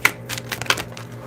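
Tarot cards are shuffled by hand, giving a close run of quick papery riffles and flicks with a low hum underneath.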